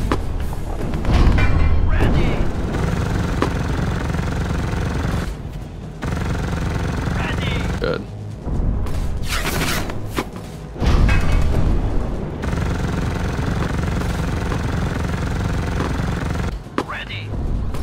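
A tank machine gun rattles in the Tank Squad demo, with a Tiger tank rolling through Russian trenches. Loud, dense bursts and booms repeat over a constant engine rumble, and players talk throughout.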